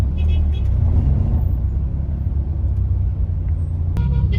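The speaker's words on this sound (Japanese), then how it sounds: "行きもすごかったですが帰りも渋滞すごいです" Cairo's jammed traffic is heard from inside an Uber: a deep, steady engine and road rumble close by, with faint outside vehicle noise and a sharp click near the end.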